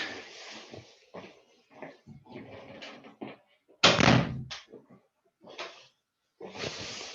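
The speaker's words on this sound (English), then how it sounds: "Let me shut my door." A vehicle door is shut with one loud, close thud midway, amid scattered rustling and handling noises before and after.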